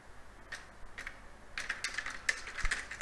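Quick bursts of typing on a computer keyboard, light clicky keystrokes in short irregular runs that grow busier toward the end, close by and quiet, with no voice over them.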